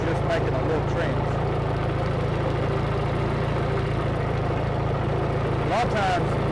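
A tractor engine runs steadily at low speed in first gear while a side sweep cuts a trench for planting fall garlic. The deep, even rumble holds close and constant throughout, with someone talking over it.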